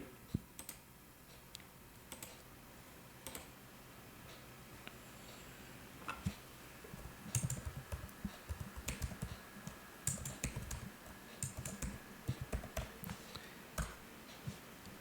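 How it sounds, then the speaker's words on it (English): A password is typed on a computer keyboard, with irregular light key clicks and taps starting sparse and growing denser, close and fairly quiet. "type the password, again retype the password"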